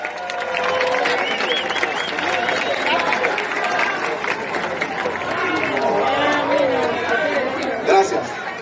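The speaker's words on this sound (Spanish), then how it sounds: "Da un fuerte aplauso" Audience at a live concert in Valencia claps and cheers, with crowd chatter mixed in, sustained throughout at moderate level.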